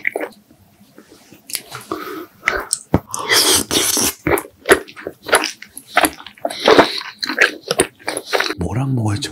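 Someone eats a fried rice cake hwajeon, crisp on the outside and chewy inside, close to the mic with repeated crunchy bites and wet, sticky chewing. A voice speaks softly in between.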